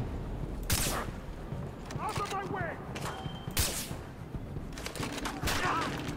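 Gunfire rings out in the video game Far Cry 3 as loud sharp shots and short volleys over a busy game soundscape, with a player talking in between.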